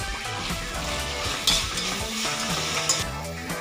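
Spice powders, including chili powder, heat in a pan for a vegetable kuruma, giving a steady close sizzle with occasional stirring scrapes and soft clinks of a utensil against the pan.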